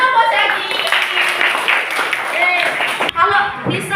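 Sixth-grade pupils clap in a classroom during a science lesson, a brief burst of scattered hand claps mixed under a teacher's lively talking and children's voices.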